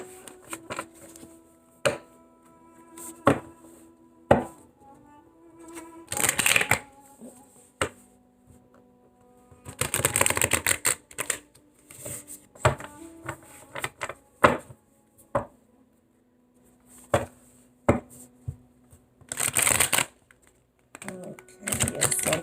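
A deck of tarot cards is shuffled by hand in irregular bursts, crisp riffling and slapping noises separated by short pauses, close and fairly quiet, with no talking over it.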